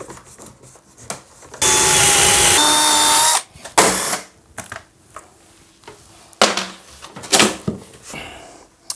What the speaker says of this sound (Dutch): Ik ga met een redelijke grote boor boren.